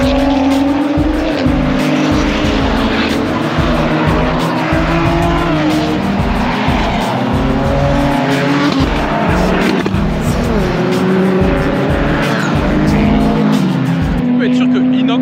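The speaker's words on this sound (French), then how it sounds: "Et là il reste une Hyundai sur le circuit" A Hyundai race car laps a circuit at a Japanese car festival, its engine roaring loudly with repeated bursts of tire squeal and skidding throughout, while spectators talk nearby over the din.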